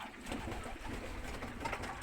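Pigeons flocking in to drink freshly poured water coo in a low, continuous rolling murmur, soft and somewhat distant, with no talking over them.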